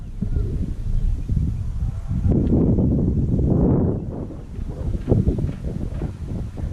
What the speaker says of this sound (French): Ça c'est le genre de vent super chiant.